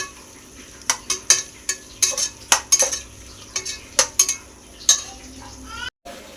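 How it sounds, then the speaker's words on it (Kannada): Green chillies frying in a pan for home-style biryani, with repeated sharp scraping and stirring clatters of a utensil against the pan over a steady low sizzle, close and fairly loud. "ಇದು ಸ್ವಲ್ಪ ಫ್ರೈ ಆಗಬೇಕು."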